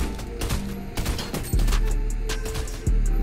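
Rapid automatic gunfire rattles in Fortnite, with dense bursts of shots and heavy, booming impacts that punch in twice over the continuous firing.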